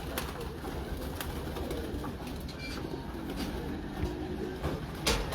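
Soft pigeon cooing in a pigeon loft sits in a steady, fairly busy background, with a few faint clicks and rustles scattered throughout.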